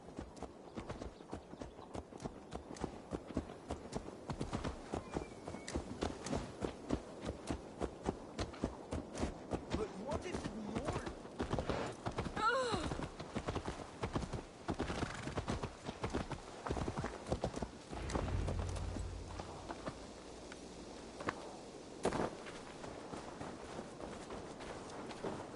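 Horse hooves clip-clop steadily in the Assassin's Creed Valhalla video game, a close, rhythmic trot of sharp strikes lasting most of the time, easing into a slower walk near the end, with a faint voice briefly.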